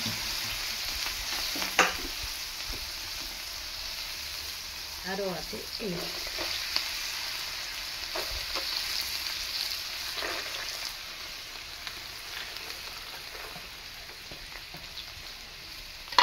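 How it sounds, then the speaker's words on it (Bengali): Soaked chana dal fries in hot oil with a constant close sizzle and occasional stirring clinks, going on throughout; someone speaks briefly near the start. "দুটি ছোলার ডাল ভিজিয়ে রেখেছিলাম কাল থেকে, এগুলো আমি ভেজে নেব।"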